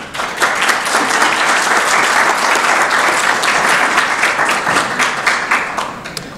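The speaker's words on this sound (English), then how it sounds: "One big round of applause, please." A conference audience at BalCCon2k17 gives a round of applause for a speaker before a talk on Scapy, dense, loud clapping sustained for several seconds, then starting to thin near the end.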